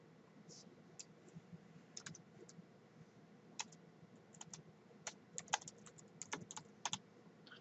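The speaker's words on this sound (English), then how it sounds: "Type percent of sticker in cell E1." Keys clack on a computer keyboard as text is entered into a spreadsheet cell, quiet irregular taps in short bursts, close and alone without talk.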